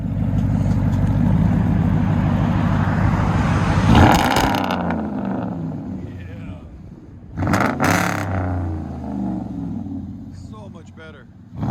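A RAM 1500 with a 5.7L Hemi V8 and Black Horse Racing exhaust rumbles at a low idle, then reverses out with a deep burble. A few sharp bursts break through, and voices talk between them.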